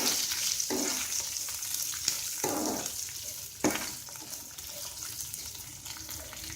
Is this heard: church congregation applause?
no